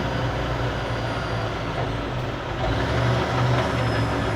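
Idling truck engine drones steadily at close range while bobtailing without a trailer, stopped at a traffic light, with a low rumbling hum throughout and faint higher whine; no air-brake hiss stands out clearly.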